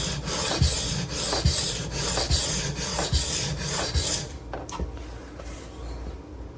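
Benchmade Redoubt knife blade being reprofiled on a diamond sharpening stone: steady rhythmic rasping strokes, close and fairly loud, roughly one every half second, fading lighter toward the end.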